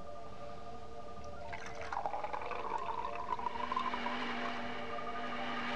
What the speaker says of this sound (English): in the other glass you pour some fruit juice